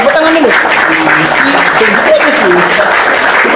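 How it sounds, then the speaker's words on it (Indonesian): Audience applause at an Indonesian religious lecture, a steady broadband patter lasting the whole moment while a voice talks over it. "Tepuk tangan dulu."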